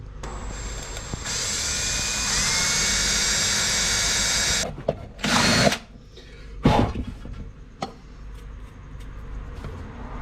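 A power drill bores holes for a light mount in the boot of a Y62 Nissan Patrol, a sustained high whine for several seconds followed by short, sharp bursts of drilling with pauses between.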